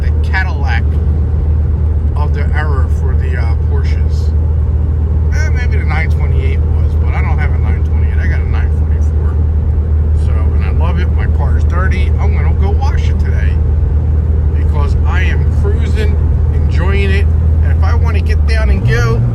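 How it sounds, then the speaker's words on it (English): A 1984 Porsche 944 engine cruising on the road gives a steady low drone and hum inside the cabin while someone talks over it throughout. "It's just great being able to cruise in the 944 again."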